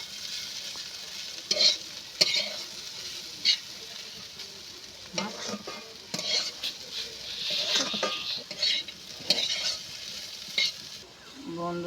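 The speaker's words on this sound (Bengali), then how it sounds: "মাশরুম দিয়ে এইভাবে আমি নেড়ে চেড়ে ভাজতে থাকবো।" Pre-fried mushrooms are stirred in a pan over a soft, steady sizzle, with repeated scraping strokes and clinks of the spoon coming in irregular bursts, close and moderately loud, with no talking.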